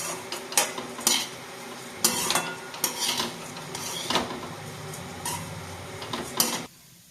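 Rice is stirred while it fries in ghee in a pot, with a spoon repeatedly scraping and clinking against the metal in uneven bursts over a soft, close sizzle.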